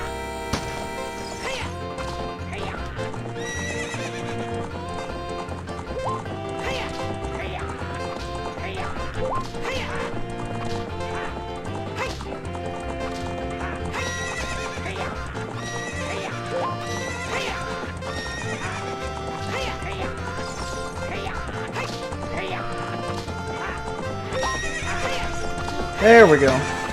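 Epona the horse in Ocarina of Time neighs and gallops amid dense, continuous game music, with hoofbeat-like clip-clop and a whinny at the end, while a voice talks over it.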